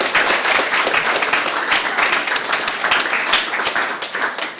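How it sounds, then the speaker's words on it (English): Applause from a hackathon audience at a live demo event, a dense burst of many hands clapping continuously for several seconds, close and fairly loud. "a round of applause for them because they've been so immensely helpful."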